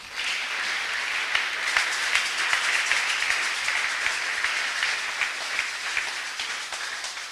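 A church congregation applauds the Lord during a sermon, sustained crowded clapping that stays steady and fairly loud throughout, with no one speaking over it.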